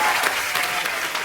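A brief burst of loud, dense studio audience clapping on a comedy talk show, an even crowd roar of hands with no speech over it.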